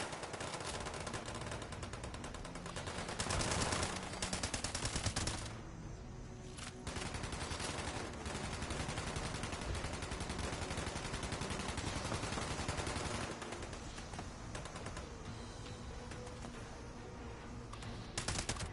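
Dense, loud gunfire from the video game Fallout 76 runs through the whole stretch, with rapid bursts and sustained automatic shooting stacked over a busy game mix, with no talking.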